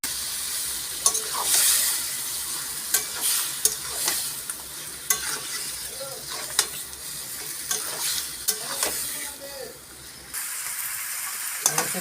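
Young goat meat being stir-fried in a pan with potatoes, a steady close sizzle broken by repeated scraping strokes of a spatula, continuing alone for the whole stretch before fading slightly near the end.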